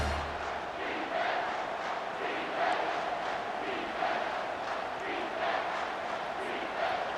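Stadium crowd roaring in EA Sports College Football 25 during a big third-down play, a dense sustained swell of cheering and chanting voices that rises and falls in waves, loud and continuous throughout.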